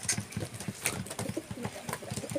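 Racing pigeons coo repeatedly at close range in a loft, soft rhythmic throaty calls overlapping one another with a few brighter wing or chirp sounds mixed in.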